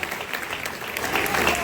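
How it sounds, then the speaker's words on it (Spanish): Loud audience applause at a teachers' union pedagogical congress in Argentina, honouring student future teachers: dense, close clapping throughout the short burst, swelling slightly toward the end. "Fuerte el aplauso para todos esos compañeros y compañeras futuros docentes"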